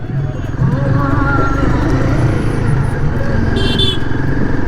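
A Royal Enfield Himalayan 452 motorcycle rides with a steady, loud engine drone and rumble throughout, while someone talks over it close by.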